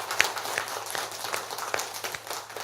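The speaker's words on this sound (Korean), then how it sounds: "우리 박수로 하나님께 영광 돌려드리기를 원해요." Congregation clapping during a church worship service, a steady patter of many hands filling the room at moderate loudness with a faint low hum beneath.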